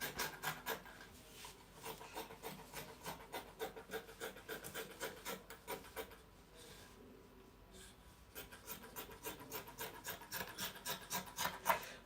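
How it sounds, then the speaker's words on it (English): Scissors cutting through fabric for a blouse on a table, a steady run of soft rhythmic snips and rustles, close but quiet, briefly slowing partway through. "Okay, so I'll cut this out now like this."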